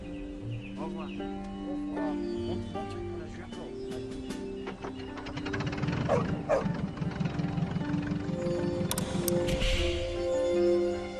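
A dog barks in quick bursts amid a busy outdoor scene with an engine droning and people talking in the background.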